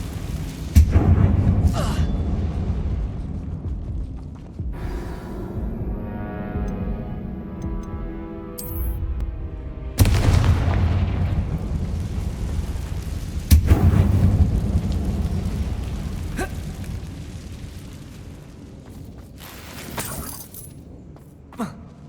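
Blasting spell explosions fired in a mine in Hogwarts Legacy: several loud, booming blasts with sharp onsets and rumbling, crackling debris tails, the largest near the middle, fading to quieter rumbles toward the end.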